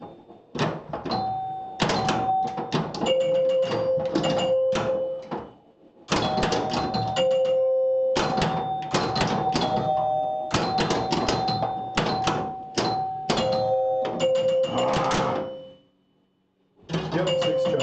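Pinball Pool pinball machine chimes ringing loud and close in quick clusters of bright bell tones, broken by two short pauses, with mechanical clatter throughout and no voices.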